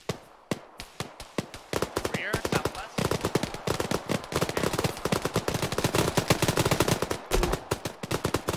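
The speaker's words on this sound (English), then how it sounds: "We're getting shot at." Rapid incoming gunfire and return bursts from a military exercise, with loud, close shots cracking in dense, near-continuous volleys and a few short pauses. A voice can be heard briefly amid the firing.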